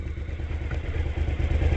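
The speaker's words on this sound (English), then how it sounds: "you're going to notice it's a very silent motorcycle" A 2016 sport motorcycle with stock exhaust rumbles low and steady at freeway riding speed, muted and fairly quiet, with a faint clatter and no voices.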